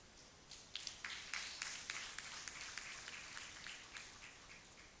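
Audience applause at an Inner Wheel Club of Coimbatore gathering honoring the club president and members, faint scattered clapping building and sustained for several seconds.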